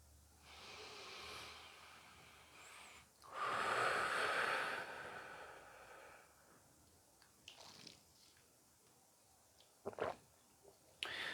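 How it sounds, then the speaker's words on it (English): A single deep breath drawn in and released, close and soft, a breathy rush that swells for a couple of seconds, then quiet with a few faint small noises. "So take a breath."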